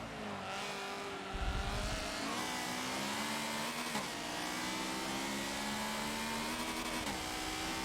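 Race car engine in the Forza Motorsport 7 racing game, a steady loud drone with shifting pitch as it revs up and drops through gear changes, continuous for the whole stretch with no talking.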